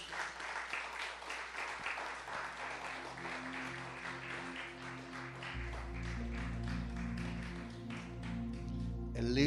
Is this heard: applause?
yes